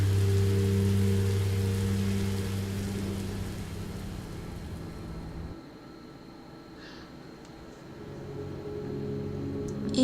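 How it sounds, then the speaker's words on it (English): Rain falls steadily in a video game, a broad hiss over a low droning hum that dips midway and then swells back. "Rain is better than monsters."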